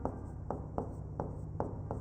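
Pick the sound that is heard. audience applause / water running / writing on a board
writing on a board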